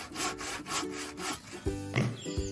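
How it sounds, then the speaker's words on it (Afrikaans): Planks of wood are sawn with a hand saw in a pig fairy tale, rhythmic rasping back-and-forth strokes close up, with a few tonal squeaks toward the end. "Hy saag planke."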